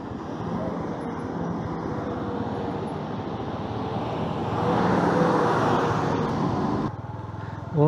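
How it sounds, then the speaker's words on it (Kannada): Road traffic in a full jam on the way to MM Hills after a lorry hit a bike at a corner, engines idling and rumbling close by in a steady dense wash that swells midway, with faint voices mixed in. "Full traffic jam."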